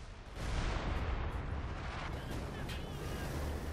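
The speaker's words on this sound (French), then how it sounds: "Tir d'artillerie coordonné en route." Coordinated artillery barrage in the WWII strategy game Company of Heroes 2: a dense, continuous rumble of shelling with booming blasts, loud and sustained throughout.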